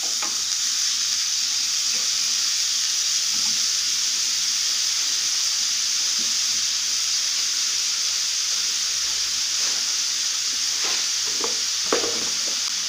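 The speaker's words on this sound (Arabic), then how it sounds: "غادي نشحر هاد الفلفله مع البصله حتى يهبطوا" Red and yellow bell peppers sautéing with onion in a pan make a steady, close sizzle and hiss throughout, with occasional soft stirring scrapes near the end.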